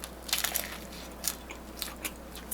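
Crunchy bites into a Mexican burger topped with potato chips, from a Mexican burger place in Carlstadt, NJ: several sharp, close crackling crunches spread unevenly over a couple of seconds, with no talking.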